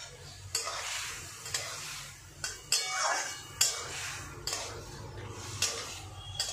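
Spice masala with turmeric and tomato being fried down in a pan for a fish curry, with a continuous sizzle broken by repeated sharp scrapes and knocks of a spatula against the pan at an uneven rhythm, close up.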